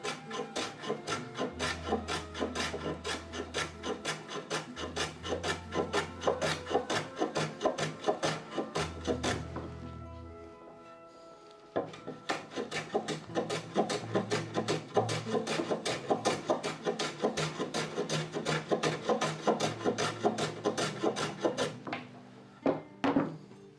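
A hand plane with a waxed sole shaves a wooden door in repeated rhythmic strokes, each a close rasping swish, with a short pause midway before the strokes resume.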